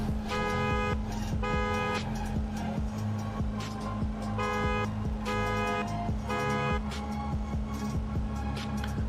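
Repeated car horn blasts sound at the start of a drift event at Road Atlanta, loud honks pulsing in a regular rhythm over a running engine.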